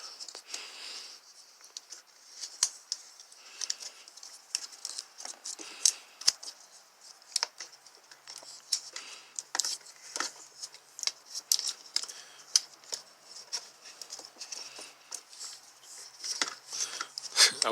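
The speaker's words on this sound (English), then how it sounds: "Hit it with the old wire tape so it'll brace everything together." Wire harness tape is wrapped around car wiring during a Toyota/Lexus P1300 repair, giving close, irregular crinkling rips and tearing snaps, short bursts that come and go without talk.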